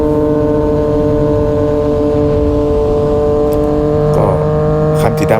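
Two Yamaha MT-09 motorcycles ride together, one on a genuine Akrapovic exhaust and one on a Thai-made SC exhaust. A loud, close, steady engine drone with strong tonal harmonics holds throughout and shifts slightly near the end.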